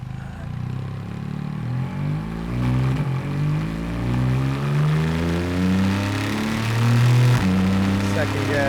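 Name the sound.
Porsche 911 Targa 4S engine accelerating through the gears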